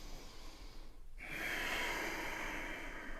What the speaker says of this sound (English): 4 more deep breaths